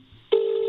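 A phone being dialed: a faint click, then a steady, loud, near tone that holds to the end, with nobody talking.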